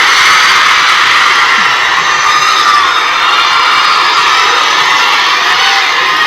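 A large crowd of overseas Filipino workers in Hong Kong chants and shouts loudly and continuously at a rally for the Vice President, a dense roar of voices with cheering and whoops throughout.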